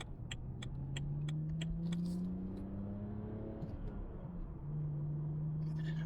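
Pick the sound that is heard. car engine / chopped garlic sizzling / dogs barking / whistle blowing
car engine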